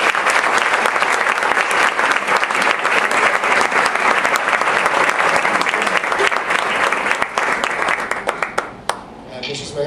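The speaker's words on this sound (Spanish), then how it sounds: "Lo recibimos con un fuerte aplauso." A packed auditorium audience applauds to welcome a guest lecturer: dense, continuous clapping close by for nearly ten seconds, thinning out and fading in the final moment.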